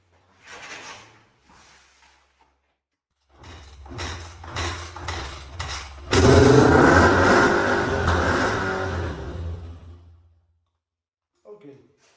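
A 2006 Yamaha YZ250F dirt bike engine starts with a few clattering attempts, then revs loudly for several seconds before cutting off, with brief clanks around it.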